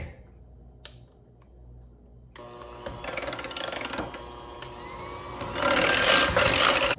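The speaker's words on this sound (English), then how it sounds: "I'm going to mix that with my mixer." Electric hand mixer whirring through melted butter, starting after a quiet pause and running in two loud bursts, the second stronger, with rattling beaters against the bowl.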